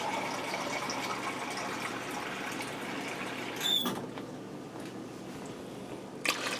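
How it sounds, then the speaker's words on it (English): Water poured into a 28-ounce tomato can, a steady hissing splash close up, ending with a couple of brief sloshes near the end. "I'm going to go ahead and fill that can up with water"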